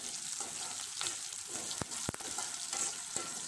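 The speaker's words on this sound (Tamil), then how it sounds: "இப்போ நல்லா ஆயிலில் வதக்கி எடுத்துக்கலாம் வெங்காயம் நல்லா பொன்னிறமாக வதங்கணும்" Onions sautéing in oil in a pan until golden, for a mini pumpkin poriyal; a steady close hiss of frying with occasional sharper spoon scrapes and taps.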